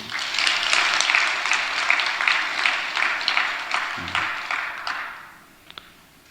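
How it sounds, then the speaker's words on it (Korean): A church congregation claps for its choir after a hymn, steady dense applause for about five seconds before thinning out to a few scattered last claps. "박수 한번 쳐줘요."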